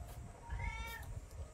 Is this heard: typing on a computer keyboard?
no